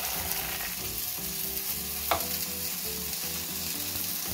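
Chicken breasts browning in a frying pan give a steady, close, dense sizzle with faint stirring clatter, uninterrupted and without speech.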